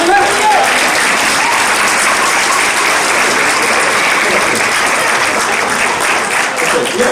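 A Kwanzaa celebration audience breaks into sustained, loud applause that fills the room steadily for several seconds with dense, even clapping, with voices mixed in.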